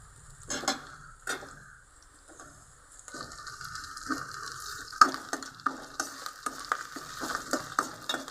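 Ginger garlic paste frying in a pan for coconut rice, a soft sizzle under sharp utensil clinks that turn into a quicker run of close scraping stirs.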